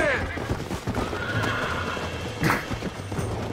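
A horse in Red Dead Redemption 2 whinnies loudly near the start and again midway, with hooves clip-clopping underneath and people talking over the game sounds.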